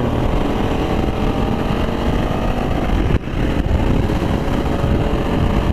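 A Honda Africa Twin motorcycle engine pushed to top speed gives a loud, continuous roar mixed with wind rush, holding steady apart from one brief dip partway through.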